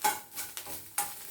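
Grated coconut sautéing with curry leaves in a pan for a radish lunch dish, giving a soft, steady sizzle with light stirring scrapes and a couple of sharper clinks, close and fairly quiet.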